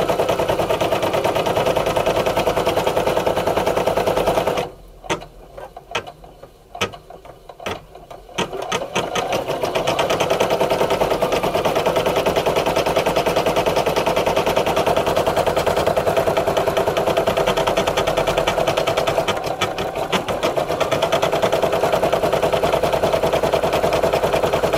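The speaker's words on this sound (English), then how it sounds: "So this machine stitches at 650 stitches per minute." A Brother Innov-is F440 embroidery machine stitches at its fixed top speed of about 650 stitches per minute, a steady close mechanical whir with a fast rhythmic clatter that dips briefly partway through before resuming at full pace.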